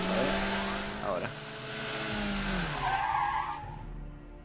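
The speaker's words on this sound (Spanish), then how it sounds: "Una cinemática, una moto ahí futurista." A futuristic motorbike roars and skids with squealing tyres in a Dawn of War video game cinematic, the engine sweeping loudly from start to finish over a backing music bed.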